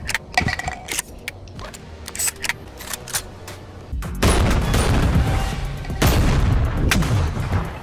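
Gunfire in BONELAB, a quick series of sharp separate shots at first, then dense sustained blasts and impacts that grow louder and fuller toward the end, with no talk.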